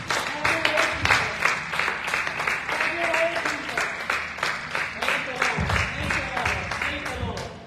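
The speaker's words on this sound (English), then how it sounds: "Come on, clap your hand and give God thanks." Church congregation clapping hands in rhythm during worship, a loud sustained run of fast, even claps filling the room, with voices and a low musical hum under it.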